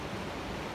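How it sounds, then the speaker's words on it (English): Steady broadband wash of ocean surf rolling onto a South Carolina beach, a continuous even roar with no distinct breaks, fairly soft and without voices. "This ocean probably stretches for like a few miles at least."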